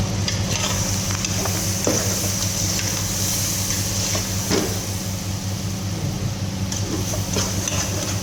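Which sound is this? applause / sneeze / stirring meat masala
stirring meat masala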